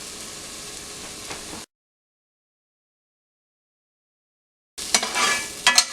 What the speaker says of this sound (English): Just saute for a minute or two.